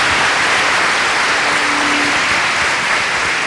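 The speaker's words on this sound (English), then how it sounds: "Big round of applause another time, please, ladies and gentlemen, for our architect, Mr. Francis Kéré." Audience at an architecture forum applauding architect Francis Kéré, a dense, steady wash of clapping from many hands throughout, close and loud with no gaps.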